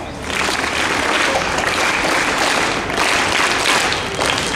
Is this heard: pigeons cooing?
no